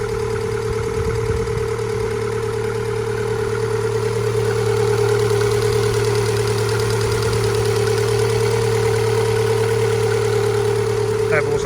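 A steady, close idle from the engine of an MG ZS 180 car fitted with a stainless steel manifold, with an even hum and continuous mechanical clatter throughout.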